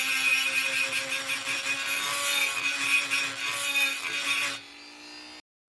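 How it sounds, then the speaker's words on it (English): Hand filing down the lip of a lower control arm bushing on a 1977 C3 Corvette, a close continuous rasping scrape with a steady tonal whine underneath, ending abruptly. "filing down that lip a little bit so it doesn't get caught when I press the other bushing in."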